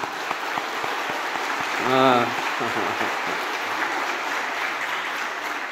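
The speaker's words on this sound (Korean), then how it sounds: "다시 한번 박수 치겠습니다" Congregation clapping in a church during a student and youth dedication service, a steady wash of applause throughout with a brief spoken voice rising over it near the middle.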